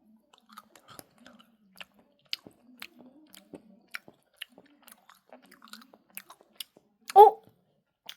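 Close, soft chewing and biting on jelly candy, with a steady run of small wet crunches and clicks and one louder burst near the end; no talk.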